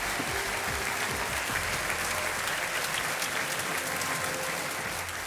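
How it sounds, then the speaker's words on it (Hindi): A game-show studio audience applauding steadily, a dense wash of clapping that stays loud and even throughout, with no one speaking over it. "तालियां बजती रहें"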